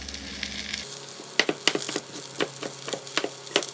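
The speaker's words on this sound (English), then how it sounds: "we can just saute those right alongside" Bok choy leaves sautéing in a hot pan, a steady loud sizzle with several crisp crackles and stirring knocks close up, no voices.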